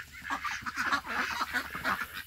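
Farm ducks quack at night in a close, loud burst of overlapping honking calls that rise and fall in rapid, uneven rhythm.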